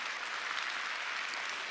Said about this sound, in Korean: 오늘 저에게 박수를 보내주신 여러분